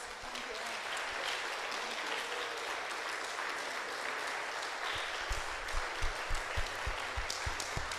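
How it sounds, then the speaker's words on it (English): An audience at a talk on democratizing the constitution gives a long round of applause, dense, even clapping that holds steady, with a few louder thumps near the end. "Let's give them a round of applause."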